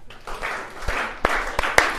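A comedy-show audience claps in a scattered, building burst, sharp individual hand claps breaking out over a rising wash of applause, heard from within the room.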